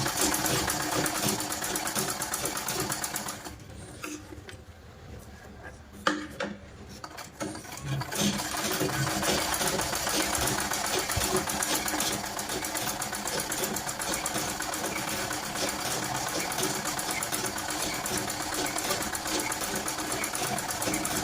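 A sewing machine stitches a simple blouse, running in a continuous loud mechanical whir that pauses briefly for a few seconds before resuming steadily to the end.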